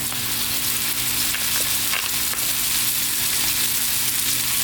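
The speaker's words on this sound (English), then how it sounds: "We're going to do for a minute on each side, and then we're going to cook them all the way through." Steak bites frying in olive oil in a pan, giving a steady loud sizzle and crackle that goes on without a break, close up, with nobody speaking.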